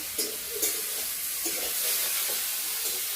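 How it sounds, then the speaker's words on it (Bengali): Ash gourd leaves fry in a pan with a steady loud sizzle and hiss, broken by occasional soft stirring scrapes, close and without any talk. "এখানে এই যে চালকুমড়ো পাতা ভেজে নিচ্ছি"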